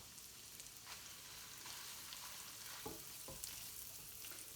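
Curry stirred in a hot pan over medium heat in a British Indian restaurant-style kitchen, a steady broad sizzle with a few scraping stir strokes near the middle, close and continuous with no talking.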